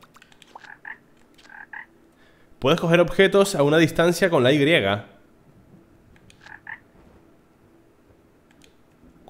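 A frog croaking in the video game Ikonei Island, short paired croaks near the start and again near the end, clear against a quiet background, with a stretch of talking in the middle.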